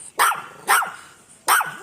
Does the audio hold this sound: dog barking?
yes